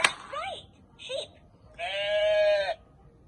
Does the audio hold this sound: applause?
no